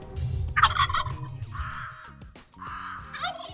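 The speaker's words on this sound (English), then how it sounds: "It's just a loud noise that makes a turkey gobble" Wild turkey gobbler sounding off with loud, rattling shock gobbles, a couple of bursts in quick succession outdoors, no talk over them.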